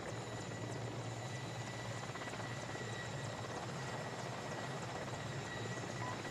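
A Mi-24 helicopter in a military video game drones with a continuous rotor and engine roar, steady and moderately distant, with no voices.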